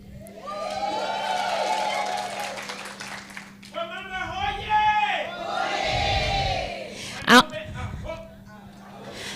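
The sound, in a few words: crowd cheering for women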